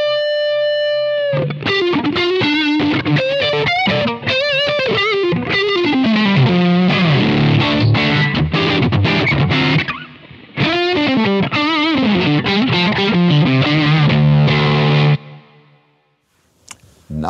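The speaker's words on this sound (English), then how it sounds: "Let's try to get a really aggressive fuzz sound." Electric guitar played through a Simplifier MK2 pedal dialed for aggressive fuzz distortion, loud and continuous with chorded riffs and sustained notes, a brief dip around the middle and a fade near the end.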